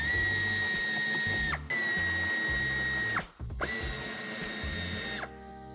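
Power drill driving Torx 30 screws out of a Fiat 500X bumper, three long loud whirring bursts with short pauses between, each run ending in a falling pitch, close and alone.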